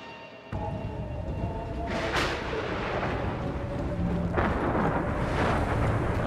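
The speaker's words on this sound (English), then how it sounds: "We don't know how long the storm will last." A windflare storm rages in the Gears of War 4 video game, with a steady, dense roar of wind and debris broken by two heavy thunder-like booms.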